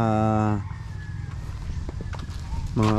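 Backyard pet chickens call near their pen, with a loud, drawn-out tonal squawk opening and another closing the moment, and soft scattered clucks and scratching in between.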